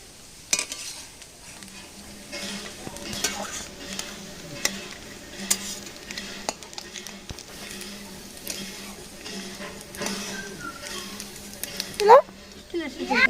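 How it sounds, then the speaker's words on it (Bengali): Grated coconut frying to light golden brown in a pan, a low sizzle with scattered clinks of a utensil scraping and stirring, close and fairly quiet, while people talk over it. "হালকা গোল্ডেন ব্রাউন করে ভেজে নিচ্ছ?"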